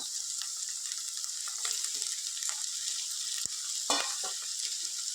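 Broad beans sizzle steadily in a pan with onions and green chillies, a continuous hiss with a few soft clicks of stirring and one sharp tap of utensil on pan near the end.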